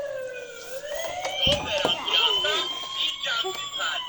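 An ambulance siren wails with a rising and falling tone, loud and near, while people talk urgently over it.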